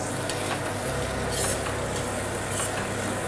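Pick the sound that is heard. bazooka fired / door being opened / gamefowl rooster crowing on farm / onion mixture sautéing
onion mixture sautéing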